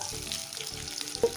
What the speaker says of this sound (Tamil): இப்போ இதை ஃப்ரை பண்ணிக்கலாம்.